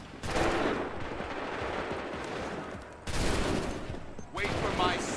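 Soldiers fire musket volleys in Assassin's Creed III, with crackling bursts of gunshots rolling out three times in succession, loud and close, amid battle noise.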